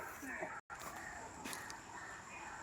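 A few harsh caws from crows ring out over faint outdoor background, with a brief cut of silence early on.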